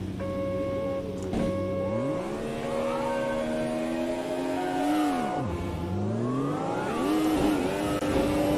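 A mid-engine turbocharged V6 race car in Automobilista 2 revs loudly through rising and falling gears, with a whining pitch that sweeps up, drops sharply around a braking point, then climbs again, alone and up close.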